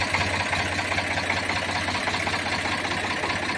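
An Eicher 368 tractor with a Ricardo engine runs at a steady idle nearby, giving a continuous low diesel rumble with a rapid knocking pulse. It sounds alone, with no talking.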